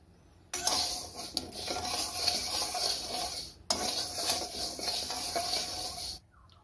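Moong dal roasting dry in a hot kadhai, a steady close scraping and rustling of lentils stirred against the metal, with a short break midway before the stirring resumes, then stops.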